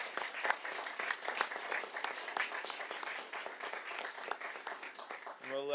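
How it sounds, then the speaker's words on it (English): A room of people at a school board meeting applauds first responders from the Huntington Community First Aid Squad, with dense, sustained clapping that runs steadily throughout, accompanied by some cheering voices. "One more round of applause for our first responders."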